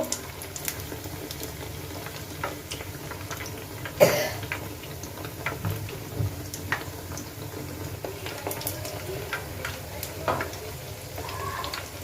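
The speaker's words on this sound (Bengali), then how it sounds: "এক এক করে আমি এভাবে সমস্ত পিঠাগুলো ভেজে নিব" Besan pitha frying one by one in hot oil, a steady low sizzle with light bubbling that runs throughout, plus a brief louder clatter near the middle and small scattered clicks.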